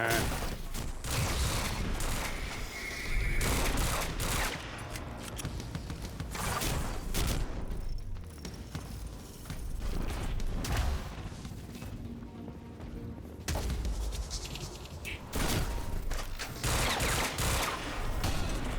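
Dense gunfire in a shooting video game, with continuous volleys and rapid bursts packed together, loud and close, punctuated by crashes and booms, and a voice talking briefly under the noise.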